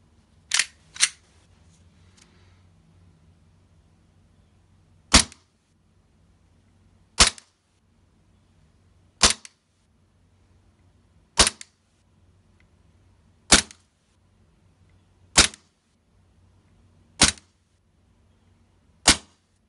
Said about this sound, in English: KP17, or also famously known as the GLOCK 17 green gas pistol.